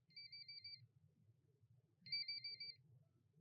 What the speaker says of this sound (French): C'est Shion qui appelle.